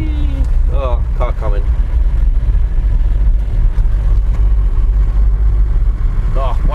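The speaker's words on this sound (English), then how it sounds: "Oh, this van does not like hills." An old van's engine labors uphill along a wet road in the Peak District, its low, steady drone rumbling throughout while a person talks over it.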